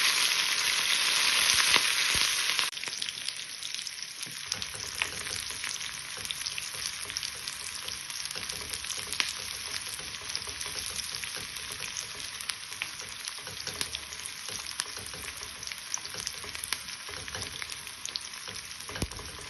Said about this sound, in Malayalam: ചുവന്നുള്ളിയും കറിവേപ്പിലയും കൂടിയിട്ട് നമുക്കൊന്ന് മൂപ്പിക്കാം.